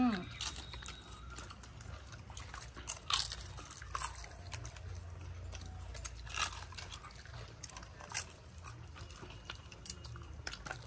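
Crisp papad crunches loudly in repeated close bites during a meal of mutton curry, with wet chewing between the crunches and a person talking over parts of it.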